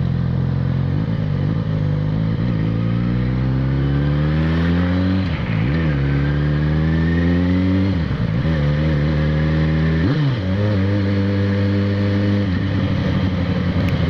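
Yamaha XJ6 motorcycle engine revving loudly and close, with repeated rising throttle blips and drops in pitch over a steady idle, no talking.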